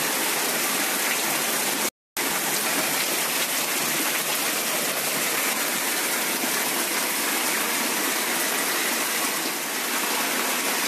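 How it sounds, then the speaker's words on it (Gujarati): Heavy rain with strong wind pouring down steadily in one continuous sheet, a loud, dense roaring hiss like rushing water filling the whole space, briefly interrupted once, with no voices. "વરસાદ ધબધબાટી બોલાવે હે આ વાત તો પૂરી એક જ ધારો વરસે હે"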